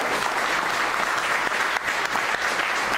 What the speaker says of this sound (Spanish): Fuerte de palmas a Él.